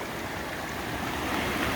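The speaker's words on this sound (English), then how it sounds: "So here's where the creek comes down." Creek water rushing down over rocks on an evening hike, a faint, steady broadband wash of flowing water that swells slightly toward the end.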